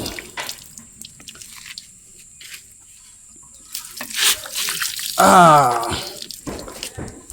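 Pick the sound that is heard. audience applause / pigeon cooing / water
water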